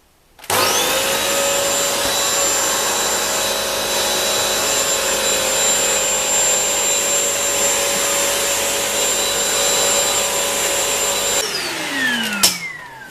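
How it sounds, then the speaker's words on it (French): A Bissell Crosswave 17132 wet-dry vacuum runs steadily and loudly up close with a constant whining motor drone while picking up spilled sugar and flour, then shuts off and winds down near the end. "Ça va nous permettre de voir si vraiment il aspire les petites particules."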